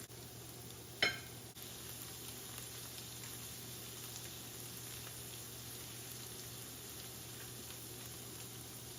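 Fish fillets frying in a pan for tacos after being flipped, a steady soft sizzle throughout with one sharp clink near the start, fairly quiet and without talk.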